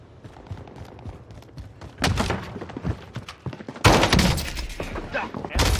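Video game gunfire in a firefight around a house, with bursts of shots growing louder from the two-second mark and a heavy volley near the four-second mark, over low background noise.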